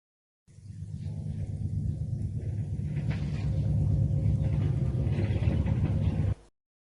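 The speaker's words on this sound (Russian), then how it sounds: "Корабль." A ship in a children's cartoon about vehicles gives a deep, steady rumbling drone that swells slightly and then cuts off abruptly, loud and alone.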